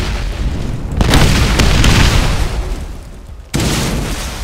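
A loud, close explosion from the Borderlands video game, a heavy boom that swells and rumbles for a couple of seconds before a second blast hits sharply.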